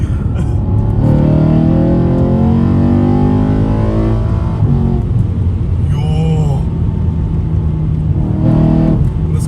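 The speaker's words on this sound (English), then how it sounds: "You guys are more here for just the sound of this car" A BMW E92 M3 engine drones steadily up close, climbing through gears with a low, constant rumble, and a voice speaks briefly over it.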